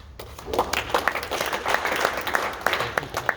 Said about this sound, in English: That did not deserve a clap.